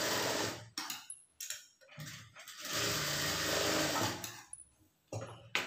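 A sewing machine stitches the shoulder seam of a blouse with a half-inch seam allowance, running loud and close in several bursts of steady whirring separated by short stops.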